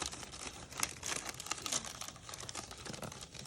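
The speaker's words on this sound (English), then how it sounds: "It's wanting to get caught on this edge of this cellophane, and gotta just slide it in." Crisp, close crinkling of cellophane as a cut card piece for a snow bunny card is slid into it, with irregular rustles and small crackles throughout.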